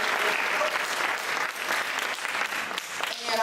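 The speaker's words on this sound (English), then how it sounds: "I want you to give yourselves a big round of applause." A room full of symposium attendees at a school gives themselves a round of applause, with loud, continuous, dense clapping heard up close throughout.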